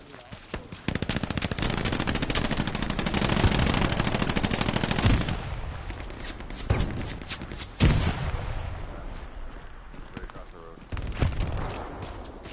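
Sustained machine gun fire in the WWII shooter game Hell Let Loose: a dense, continuous burst of rapid shots, then scattered single bangs and shorter volleys, with voices talking in between.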